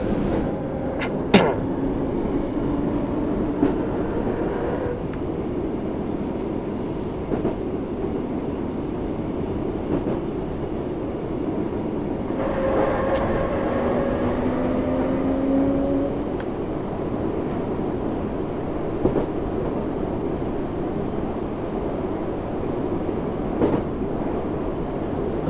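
A British train runs steadily in Train Sim World 3, a constant rumbling roll with occasional clanks, squeals and tonal whines over about twenty-five seconds, loud and continuous with no talk.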